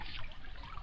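Creek water flows in a steady, quiet trickle, a soft continuous wash with no voices.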